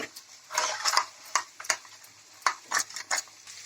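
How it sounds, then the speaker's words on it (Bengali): Turmeric, cumin and chilli powder are stirred into water with a spoon in a small bowl or pot, giving a series of close scraping, clinking strokes in irregular bursts. "1/2 চামচ লঙ্কা গুঁড়ো দিয়ে আমি এটা ভালোভাবে জল দিয়ে গুলে নিচ্ছি"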